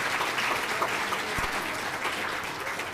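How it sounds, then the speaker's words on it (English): An audience at a Congressional Black Caucus women's event applauds in a steady, dense burst of clapping with no voices over it. "another round of applause"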